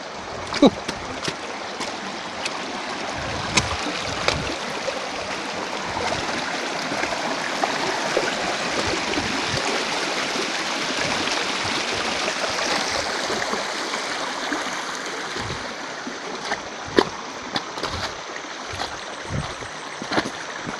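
A small ditch-like river stream flows in a steady, close, broadband rush, with scattered splashes and clicks throughout and no talking.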